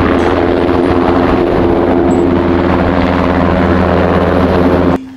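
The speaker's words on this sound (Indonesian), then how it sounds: "ini adalah helikopter militer teman-teman" A military helicopter drones with a loud, steady rotor and engine hum that cuts off sharply near the end, with no voices.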